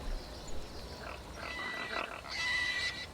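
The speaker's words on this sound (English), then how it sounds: "I like the sound of the pigs." Pigs in the fantasy role-playing video game Divinity: Original Sin 2 give a few soft, low grunts and snorts over quiet game ambience, fairly faint, with no talking.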